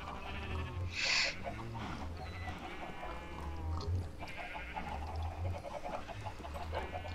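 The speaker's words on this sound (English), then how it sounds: "Oh, the sheep are still in there." Sheep bleating inside a pen in the game Minecraft, several wavering calls rising over a busy backdrop of other farm animal noises, with someone talking over them.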